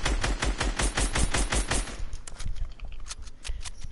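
Rapid machine-gun fire in a video game, a dense run of evenly spaced loud shots for about two seconds, then looser, scattered bursts and clatter.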